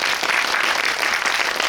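Audience applause in a cinema hall during a post-screening guest visit with directors and actors, a brief, steady, even wash of many hands clapping at moderate volume with no voices over it.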